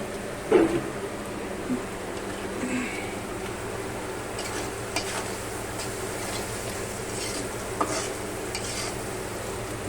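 Ginger paste, onion and chili fry in a pan with a steady sizzle, punctuated by the scrape and clink of a stirring utensil on the metal, close and without talk.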